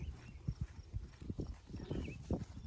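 Faint hoofbeats clop along in a steady, even rhythm, a gaited horse moving at a smooth, easy diagonal gait like a foxtrot, quiet and somewhat distant.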